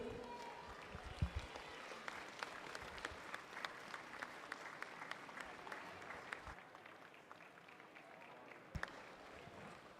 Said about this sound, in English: Let's cheer on our last few swimmers.